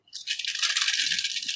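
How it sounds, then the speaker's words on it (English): A sheet of paper being shaken and rattled by hand in a classroom setting, giving a steady, close, dry crackling flutter that holds evenly throughout with no voice over it. "See, I am vibrating the paper."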